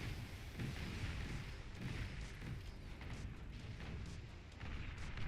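Assault frigates firing in the Beyond All Reason strategy game, heard as a dense, continuous rumble of distant booms and explosions layered together at low volume, with no clear breaks.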